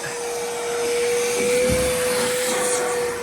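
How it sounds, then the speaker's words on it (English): Vacuum cleaner hoovering inside a Chieftain MK10 tank turret being prepared for paint, a loud steady whine with a constant drone that swells slightly as the nozzle moves. "That's just doing a bit more hoovering."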